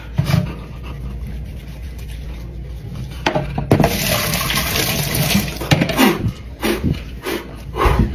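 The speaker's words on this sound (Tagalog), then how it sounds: "Kailangan ko maghugas ng mukha." A running tap pours water for face washing, a steady broadband wash that swells louder midway with splashing and small knocks, close and continuous with no talking.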